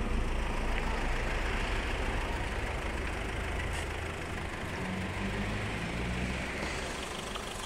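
A minibus approaches the railway crossing on Kutnowska Street in Gostynin, its engine a steady, dense rumble and hum that holds evenly throughout with no voices.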